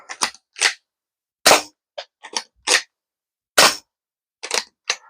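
Parrot toy blaster pistol modded to about 140 feet per second firing a string of sharp, close snapping shots, roughly ten irregularly spaced cracks with short pauses, loud and alone with no talk.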